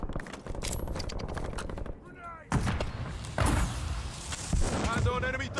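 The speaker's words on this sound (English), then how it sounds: "Somebody else is shooting here." Gunfire in Call of Duty Warzone crackles in sharp bursts and single shots, some near and some farther off, mixed with thumps and game sounds while a voice talks over the action.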